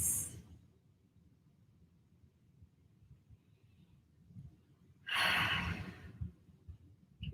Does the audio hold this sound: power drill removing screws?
no